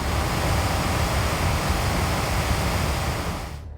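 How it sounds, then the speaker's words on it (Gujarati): Heavy rain has sent water overflowing the Sorathi dam in Gujarat, and it roars as a loud, steady rush that fills the whole clip with no voices, easing slightly at the very end. "સમગ્ર તાલુકામાં સાર્વત્રિક સારો વરસાદ પડવાથી સોરઠી ડેમ ઓવરફ્લો થયો છે"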